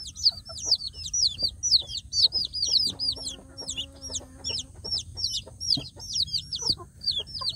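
Native chicken chicks peep constantly in high, rapid chirps, a crowd of them close by, with a brief soft cluck from a hen partway through.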